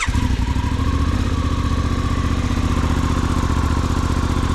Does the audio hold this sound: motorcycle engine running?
yes